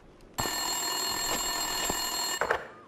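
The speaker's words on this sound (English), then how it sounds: "Winterson's phone was ringing." A desk telephone rings in the video game Max Payne 2, an electronic bell tone that starts abruptly and trills steadily and loudly for about two seconds before cutting off, with no voices over it.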